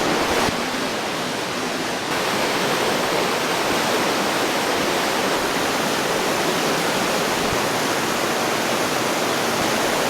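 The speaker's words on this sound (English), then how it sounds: "that massive, massive waterfall turns into this like tiny little stream" Grizzly Falls in British Columbia's Nahatlatch Valley, a massive roadside waterfall feeding a small stream, roars as steady, dense rushing water, loud and close throughout with no pauses.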